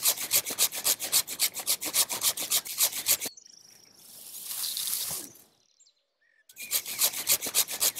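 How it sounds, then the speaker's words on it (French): A hand saw works through an olive tree branch during pruning in rapid, rhythmic rasping strokes up close. The sawing breaks off for a few seconds of softer rustling and near silence, then the strokes resume at the same brisk pace. "je change d'outil et je prends ma scie"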